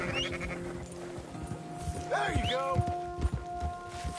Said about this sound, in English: Damn that horse.